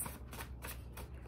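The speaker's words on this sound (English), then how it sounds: "I'm just reading the cards that pop out while I'm shuffling." Tarot cards are shuffled close by in quick, rhythmic swishing riffles, repeating several times in a short burst with no talking.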